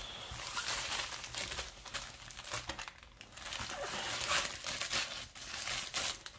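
Cloth bags holding a Dreamer Designs Lo Steccato Sul Fiume piece rustle and crinkle steadily as they are unpacked up close, with soft tearing-like scrapes and no talking.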